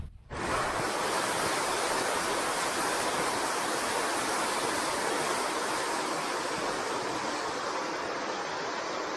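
A stream flows beside a frozen taiga lake in winter, a steady, dense rushing wash that fills the whole stretch without pause, close and fairly loud, with no voices over it.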